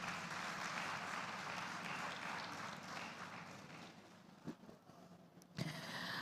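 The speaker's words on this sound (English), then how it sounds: "Another warm round of applause for the COO of FutureMap, Ahmad Rabiu Shuaibu." Steady applause from a conference audience at a tech event in Africa fills the room, then thins out near the end, broken by a couple of sharp knocks.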